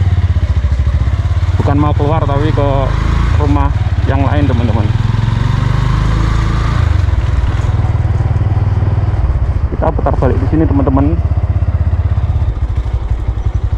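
Motorcycle riding ahead through a housing estate in Landungsari, Malang, a steady mid-pitched engine putter running throughout beneath someone talking.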